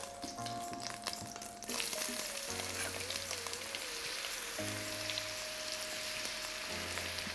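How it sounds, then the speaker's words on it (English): Butter with a little olive oil crackles and sizzles steadily in a hot frying pan, a continuous fizzing hiss close by, with some background hum. "Where I have just a little bit of butter. Ooh, hear that sizzle?"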